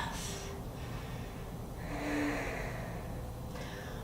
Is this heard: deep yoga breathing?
yes